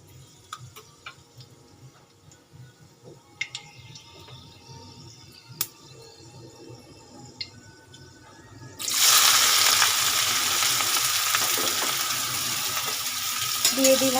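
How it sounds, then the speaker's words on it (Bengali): Whole garam masala drops into hot white oil, and after a quiet stretch of faint kitchen ticks a loud, dense sizzle suddenly bursts up close and keeps hissing steadily to the end. "দেখো এখানে সাদা তেলটা আমার গরম হয়ে গেছে, আমি দিয়ে দিলাম গরম মশলা, গোটা গরম মশলা।"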